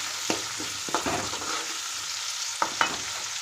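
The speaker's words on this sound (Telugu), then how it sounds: "వేసి వీటిని కూడా గోల్డెన్ బ్రౌన్ కలర్లోకి వచ్చే విధంగా ఫ్రై చేయాలి" Slit green chillies fry in hot oil until golden brown, a steady sizzle broken by a few scrapes and stirs of a spoon in the pan.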